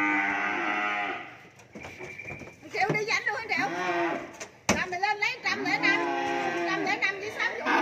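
Cattle moo loudly and repeatedly at a cattle farm in Vietnam during loading for delivery, long drawn-out bellows from several animals close by, overlapping one another with a sharp knock midway.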